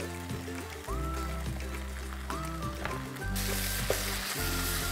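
Dry curry stir-fried in a pan gives a steady, close sizzle, with occasional stirring scrapes and a louder burst of frying partway through.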